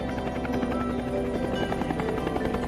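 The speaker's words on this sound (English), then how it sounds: "airlift by helicopter was usually the best rescue option" A military helicopter flies over rugged Korean mountain terrain on a wartime rescue airlift, its steady rotor chop and engine drone continuous and fairly close throughout, with no voices.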